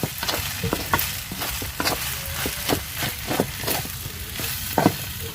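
Fried rice being stirred as it cooks in bamboo, a steady sizzle of frying broken by repeated sharp scraping and tapping strokes of a utensil at an uneven rhythm, close and fairly loud.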